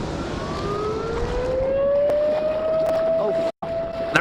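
A siren wails before a flood disaster, one long rising tone climbing steadily and holding loud over a noisy outdoor rumble, with a brief cutout near the end.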